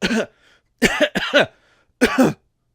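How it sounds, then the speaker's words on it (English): A person coughs sharply several times: one quick cough, then a pair in rapid succession, a pause, and a final cough, close and clear. "oh, sorry, cough"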